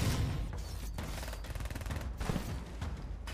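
Rapid bursts of automatic gunfire from units in the real-time strategy game Stormgate, loud and dense, coming in repeated volleys with short gaps between them.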